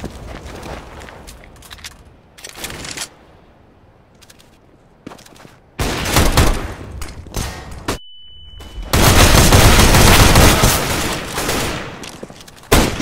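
Rapid gunfire bursts in CS:GO, loud and close, with sustained automatic volleys between quieter gaps and a steady high tone partway through.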